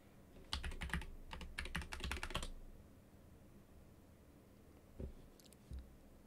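Quiet keystrokes on a computer keyboard come in two quick bursts of rapid clicking, followed by a pause and then a couple of isolated key taps, heard while setting up a home server.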